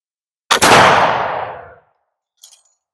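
A single loud, close gunshot from a 1773 Eliott Dragoon carbine fired outdoors at a target, with a sharp crack and a long booming decay, followed by a faint brief click.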